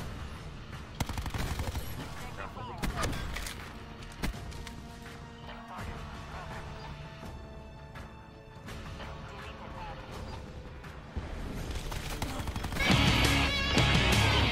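Call of Duty: Black Ops 4 gunfire crackles in rapid automatic bursts and single shots through a hectic multiplayer match, with impacts and a louder stretch of fire near the end, while players talk over it.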